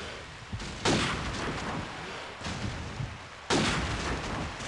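Grenade blasts in the video game Call of Duty 4: two loud, broad bursts a few seconds apart, each rumbling away over a continuous noisy battle background.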